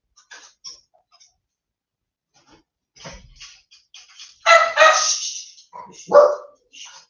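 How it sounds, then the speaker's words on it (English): Dogs being fed at home bark and yip in scattered bursts, with a louder cluster of barks partway through and faint voices nearby. "So the wife's just feeding the dogs."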